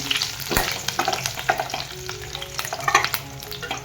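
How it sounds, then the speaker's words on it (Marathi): Curry leaves crackle and sizzle steadily in hot oil with a garlic, cumin and mustard seed tempering, with sharp spattering pops and occasional spoon clinks against the pan, close and fairly loud, no voices. "कढीपत्ता पण चांगला तळून घेऊया, चांगला भाजून"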